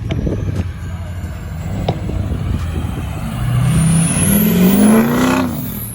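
A Nissan GTR leaving a car meet pulls away and accelerates, its engine note rising through the gears against a background of other traffic and faint crowd noise.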